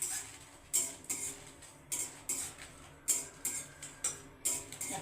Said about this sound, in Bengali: লঙ্কাটা একটু লাল করে ভেজে নেবো।